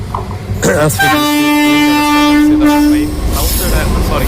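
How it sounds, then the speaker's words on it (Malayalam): A train horn blasts in one long sustained tone over the rumble of a passing freight train's rail cars, with a voice speaking nearby, in Trivandrum. "പാസഞ്ചർ ട്രെയിനല്ല, എന്താണ് SRBC ഗുഡ്സ് ട്രെയിനാണ്."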